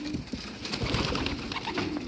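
Soft pigeon cooing mixed with fluttering and rustling after a bath, close by and fairly quiet, with no voices.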